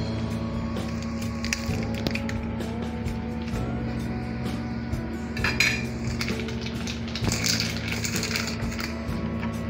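Eggs and sliced cheese for an omelette are mixed in a bowl, a continuous clinking and scraping of utensil against the dish with brief louder knocks, close and fairly loud, with no talking.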